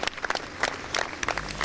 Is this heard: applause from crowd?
yes